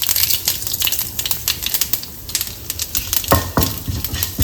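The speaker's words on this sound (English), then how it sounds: "Let's add in 1 teaspoon of mustard seeds, followed by the urad dal, 1 teaspoon of cumin seeds." Mustard seeds, urad dal and cumin seeds frying in hot oil, a loud close crackle of rapid popping and spitting with dense irregular bursts and a few sharper pops near the end, no voices.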